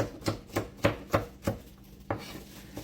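A knife dices carrots for a broth, landing about six crisp, close chops in a quick uneven rhythm, then a short pause before one more chop.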